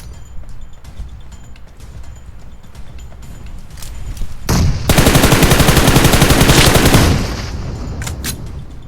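Video game gunfire: scattered shots and clatter, then a loud sustained burst of rapid automatic fire lasting a couple of seconds before easing off.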